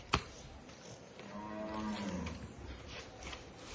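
A buffalo on a dairy farm gives one drawn-out, droning moo lasting about a second and a half, close and fairly clear over quiet farmyard background.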